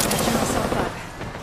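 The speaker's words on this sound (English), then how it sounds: "Opening fire on the enemy." Dense automatic gunfire in a video game rattles continuously at loud volume, easing slightly toward the end of the short burst.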